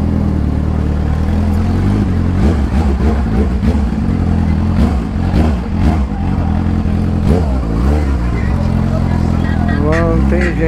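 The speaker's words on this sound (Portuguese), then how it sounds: "tem um monte de moto transitando aqui" Many motorcycles ride through congested traffic at a protest shutdown, a dense, loud mix of engines revving and passing close by, with a rider talking over the continuous roar.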